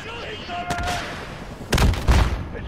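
Video game gunfire and heavy booming impacts land in loud, close bursts, with a louder cluster of blasts toward the end, mixed with a voice and game effects.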